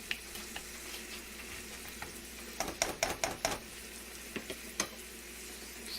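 Carrots sizzle quietly in oil in a pan, a steady soft crackle, while a spoon clatters against the pan in a quick cluster of stirring scrapes and taps midway, then a few more isolated clinks.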